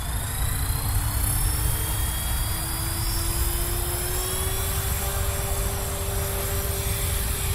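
A Blade 360 CFX RC helicopter hovers close by, its rotor and motor making a loud, steady whine and whir whose pitch rises slowly across the stretch, with no talk over it.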